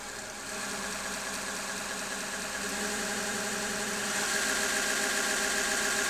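A VEVOR 30 x 1-inch variable-speed belt grinder sander with a VFD whirs steadily and rises in pitch and loudness as its belt speed climbs toward 3000, with no voices over it.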